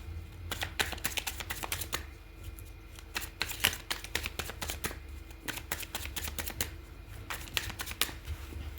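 Tarot-style cards being shuffled and drawn for a relationship card reading, a close run of quick dry riffling clicks and snaps with brief pauses, no talk.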